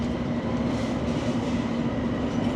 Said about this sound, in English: This is the Hammersmith City Line train to Hammersmith.